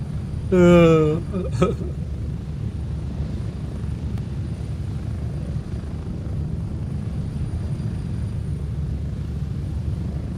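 Inside a helicopter in the Gray Zone Warfare video game, a steady low rotor and engine rumble drones throughout, with a short burst of speech near the start.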